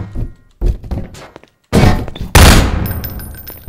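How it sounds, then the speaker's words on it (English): SMG alt-fire grenade launches in Garry's Mod land as sharp, heavy thunks and blasts, several separate bursts with a loud final explosion ringing out at close range. "If you right click with the SMG, it shoots grenade."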